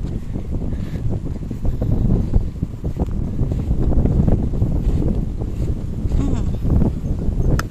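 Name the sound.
strong wind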